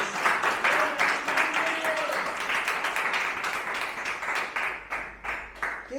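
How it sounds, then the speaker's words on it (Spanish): A church congregation claps together in strong, rhythmic applause, many hands beating in a steady pulse that fills the room and fades slightly toward the end. "Denle fuertes palmas al Señor, hermanos."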